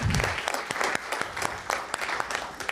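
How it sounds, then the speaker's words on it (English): Audience at a village board meeting applauds a police officer marking 20 years of service, a steady round of clapping from a modest crowd that runs throughout. "We're going to give him a round of applause."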